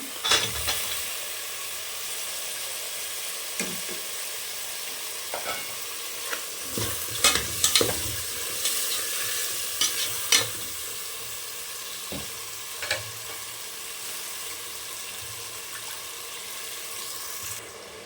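Mutton pieces fry and get stirred in a pan for a mutton fry dish, with a steady sizzle broken by repeated scraping and stirring strokes, some louder clatters, and a faint watery undertone, with no talking.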